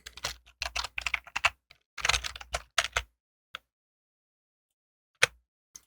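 Quick clusters of key presses on a computer keyboard while code is typed, several bursts of clicking separated by short pauses, then a single isolated tap near the end in otherwise silent surroundings.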